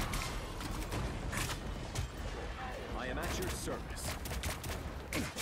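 Gunfire crackles in a Marvel Rivals match, a dense burst of rapid shots and impacts amid game effects, with a voice talking over the action.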